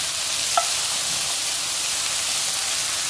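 Mushrooms fry in a pan with a steady, loud hiss of sizzling oil that holds evenly throughout, with a faint single tap near the start and no voices.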